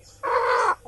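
One harsh, drawn-out squawk lasting about half a second from a young, not-yet-mated free-range kampung chicken on a small farm, close and clear with no talking.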